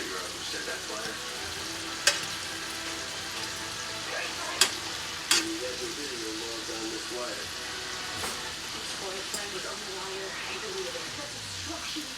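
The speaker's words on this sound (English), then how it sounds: "start flipping these over. Shrimp do not take very long to cook." Shrimp for garlic shrimp scampi fry in a pan with a steady, dense sizzle that runs the whole time, broken by a few sharp clicks as pieces are turned.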